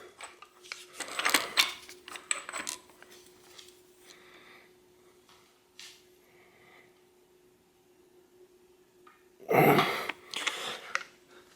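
A compact crankset bolt on a DIY cyclocross/gravel bike is torqued down, giving bursts of metallic clicking and ratcheting near the start and again near the end, with quiet between.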